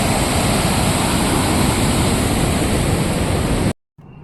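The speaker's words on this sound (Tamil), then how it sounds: "சவுண்ட் எப்படி கேட்குது பாருங்கள், அதோட வாட்டர் ஃப்ளோவோட சத்தம்" Water pouring at Ripple Waterfalls in Munnar, a dense, loud, unbroken roar of falling water heard close by that cuts out abruptly near the end.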